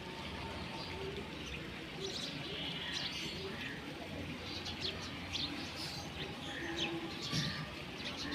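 Silver bagha pigeons in a loft, giving faint low coos mixed with scattered chirps while someone talks quietly at times.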